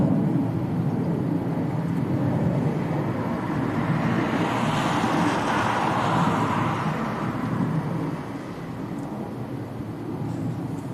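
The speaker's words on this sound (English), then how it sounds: "next to land is Aer Lingus, which is also just coming over Leeds city centre at the moment" An Aer Lingus airliner on approach to land at Leeds Bradford Airport in strong, gusty wind, a broad steady roar building toward the middle and easing off, mixed with wind noise and heard from a distance.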